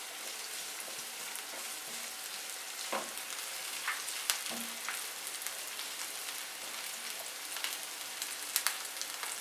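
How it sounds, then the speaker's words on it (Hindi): Chopped onion and crushed garlic fry gently in oil, a steady soft sizzle with a few sharper pops and occasional stirring clicks, close and continuous with no talking. "एक मीडियम चॉप प्याज और 1 टीस्पून कुटा लहसुन। इनको हल्का सा फ्राई करेंगे।"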